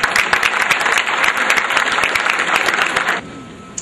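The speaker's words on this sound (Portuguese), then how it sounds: "Gadu, palmas!" Audience applause at a live talk, a dense burst of many hands clapping loudly and steadily for about three seconds before cutting off abruptly.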